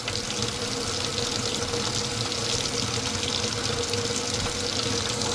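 Water runs steadily from a kitchen tap, a continuous close hiss and splash at constant loudness with no talking.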